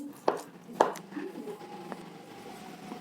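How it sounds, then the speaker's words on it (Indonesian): Half-cooked rice being stirred with a wooden stirrer in a home kitchen, giving two sharp knocking scrapes near the start and then softer scraping and clatter. "aronnya kita aduk-aduk dengan kayu atau dengan penumbuk"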